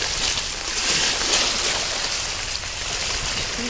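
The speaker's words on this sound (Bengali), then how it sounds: "এই যে ডেউগুলো দেখুন যে কীরকম ডেউ অনেক বড় বড় ডেউ" Big waves on Sylhet-Sunamganj floodwater make a continuous broad rushing wash, steady and fairly loud, with wind noise mixed in and no clear voices.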